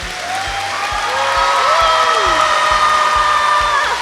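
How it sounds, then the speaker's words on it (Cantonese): An audience at a school musical production claps steadily for the principal, loud dense applause under sustained music with a few whoops, continuing throughout. "我希望大家俾掌聲佢"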